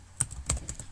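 Keys clack on a computer keyboard in a quick burst of four or five close, light taps while programming, with no talk over them.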